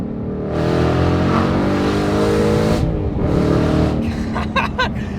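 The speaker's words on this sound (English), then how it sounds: "I'm going to roll down the windows so we can hear what this car sounds like" A Ford Mustang RTR engine, a car of over 700 hp, revs hard with the windows down, its loud, sustained roar rising and falling in pitch, easing briefly near the end before rumbling on with sharp crackles.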